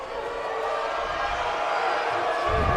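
A home crowd at a high school basketball game between the Hermits and Middle Township builds into a loud, sustained roar that swells toward the end, with no clear voice on top.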